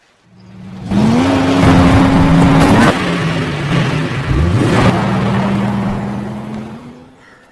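A car driven off in a film scene, its engine roaring loudly and steadily for several seconds, with revving swells and a rising whine before fading slightly at the end.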